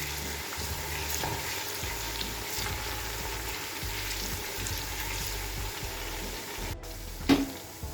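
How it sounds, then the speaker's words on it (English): Iru, fermented locust beans, frying in oil in a pot for Nigerian efo riro, a continuous close sizzle with soft stirring scrapes and a brief clank near the end, no voices. "please put in your iru and fry for another 2 minutes"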